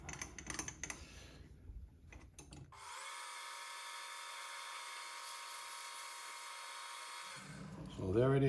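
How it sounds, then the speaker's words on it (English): A metal piece for a hit-and-miss engine's intake valve chamber is parted off on a lathe, giving a steady, loud cutting whine for about five seconds, with brief talk before and after. "going to part this off."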